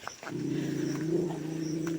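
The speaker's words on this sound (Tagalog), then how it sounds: "Galit na galit ang aso sa akin." A dog growls continuously and low, a sustained rumbling snarl close by, with no distinct barks.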